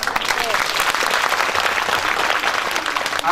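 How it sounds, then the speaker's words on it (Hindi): An audience at a Shrimad Bhagwat Katha religious gathering gives loud, sustained applause, many hands clapping rapidly and steadily throughout. "जोरदार ताली"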